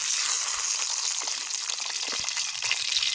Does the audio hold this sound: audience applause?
no